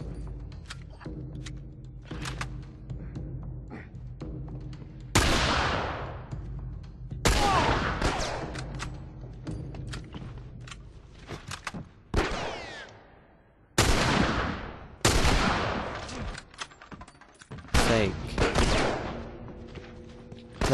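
Hunting rifle shots in The Last of Us shooter, about half a dozen loud, sharp blasts spaced a couple of seconds apart, each ringing out and decaying over a low background rumble.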